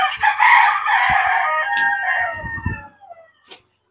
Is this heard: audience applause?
no